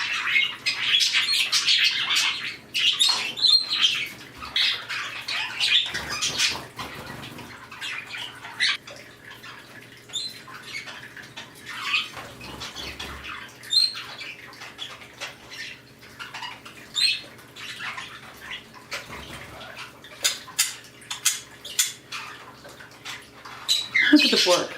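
Cockatiels and other pet birds loose in a living room, chirping and squawking in bursts with occasional wing flaps, fairly close, alongside household background noise.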